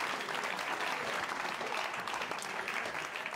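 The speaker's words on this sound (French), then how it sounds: "j'aimerais un grand applaudissement pour Christian" Steady, dense applause from a crowd at an awards show fills the whole stretch, loud and continuous with no talking over it.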